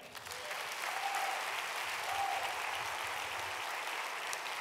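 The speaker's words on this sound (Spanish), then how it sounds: "Dale un aplauso a Cristo" A church congregation applauds for Christ during a televised sermon, a steady wash of clapping heard fairly quietly and at some distance, with a faint sustained tone running beneath it.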